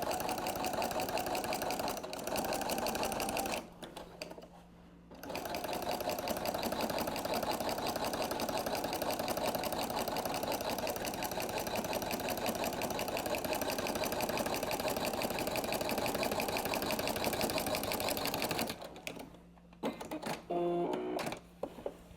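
Sewing machine quilting a triangle quilt table runner: a fast, steady mechanical whirr and rapid stitching chatter running in long bursts, stopping briefly twice with short pauses and handling noises, close and moderately loud, with no talking.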